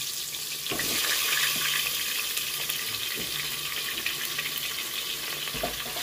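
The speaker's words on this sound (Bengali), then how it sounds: "এবার ওই তেলেতে দিয়ে দিলাম পেঁপেগুলো একটু ভেজে নেব।" Hissing sizzle of papaya pieces frying in oil, with occasional clinks and stirring taps, close and steady, no voices.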